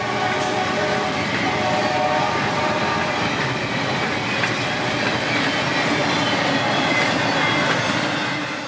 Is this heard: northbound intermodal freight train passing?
yes